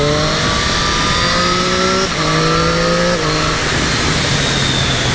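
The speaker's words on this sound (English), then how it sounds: "just so I can give you a taste of an exhaust acceleration" A Triumph Street Triple 660 S motorcycle on its stock exhaust accelerates hard through the gears, a loud continuous rising engine note with short dips at each shift, heard close over wind.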